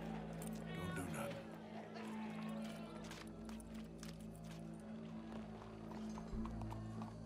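Horse hooves clip-clop steadily in Red Dead Redemption 2, a moderate repeating rhythm under game ambience with a continuous low drone, fairly quiet throughout.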